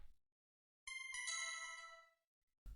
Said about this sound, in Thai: เมื่อเราเข้าออเดอร์ไปแล้ว ก็จะมีเสียงแจ้งเตือนครับ